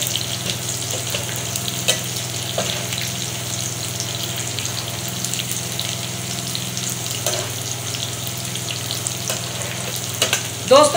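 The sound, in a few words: chilies frying in oil for chana dal tadka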